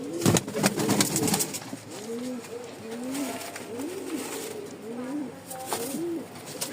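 Lahori and Lakka pigeons kept in pairs on a farm coo again and again, with soft, rounded, bubbling calls repeating at a fairly even pace. The birds are close by, and a few sharp noises and faint background sounds are heard around them.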